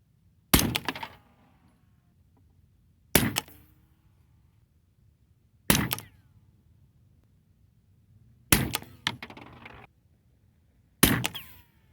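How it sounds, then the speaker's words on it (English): Five suppressed 9mm pistol shots with subsonic Power Pistol reloads, each a sharp, loud, close crack with a short mechanical clatter, spaced about two to three seconds apart over quiet outdoor ambience. "Okay, I've got the suppressor on, so I'm going to go ahead and shoot."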